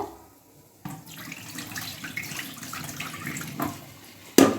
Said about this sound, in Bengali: এই যে চালটা ভিজিয়ে রেখেছি ধুয়ে নেবো